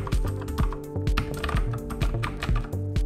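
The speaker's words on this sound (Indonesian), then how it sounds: "keyboard ini menggunakan blue switch, jadi akan ada feedback yang cukup terasa serta suara klik yang cukup kencang pada saat kita mengetik" Fast typing on a Thermaltake Poseidon ZX mechanical keyboard with blue switches, its crisp clicky keystrokes arriving in quick, uneven bursts, close and clear with no voice.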